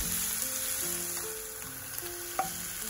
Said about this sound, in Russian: В этой сковороде я буду обжаривать лук до золотистого цвета.